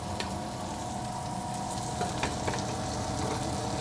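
Lamb shanks browning in a pan sizzle softly and steadily, with a few light crackles and small pops scattered through.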